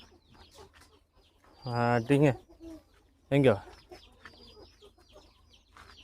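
Chickens, roosters and guinea fowl being called in by a person on a farm, with a few loud, short vocal calls standing out over faint background clucking and chirping.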